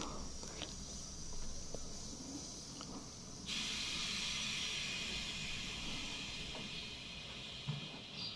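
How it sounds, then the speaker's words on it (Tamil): Steady crackling and hissing of mustard seeds spluttering in hot oil, close and continuous, with a sharper hiss rising partway through. "கொஞ்சமாக கடுகு போட்டு நல்லா பொரியணும்"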